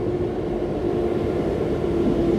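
A passenger train on the Raebareli line near Dalmau junction produces a steady, continuous low rumble with a faint tonal hum from inside the moving coach, without any talking.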